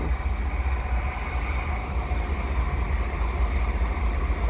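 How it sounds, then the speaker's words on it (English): CP intermodal freight train hauled by GE AC4400CWM locomotives, heard as a steady, loud low rumble of rolling cars and engines passing close by without a break. "GE locomotives here, AC4400 CWM."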